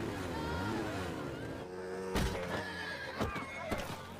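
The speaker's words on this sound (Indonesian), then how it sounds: "salah seorang anak buah Pablo menabrak seekor kuda" A horse struck by a motorbike in 1981 Colombia gives a wavering, drawn-out neigh, close and loud, followed by sharp bangs and rough noise.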